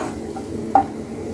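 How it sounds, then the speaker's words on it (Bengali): Raw jackfruit with garlic cloves and cumin powder is stirred in a pan. A steady low frying hiss runs throughout, and one brief scrape of the spoon lands near the middle. "কাঁঠালটা এখানে কষানো হওয়া পর্যন্ত নেড়ে নিতে হবে।"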